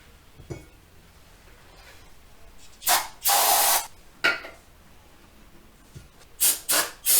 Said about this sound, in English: now that we've sprayed our races with brake clean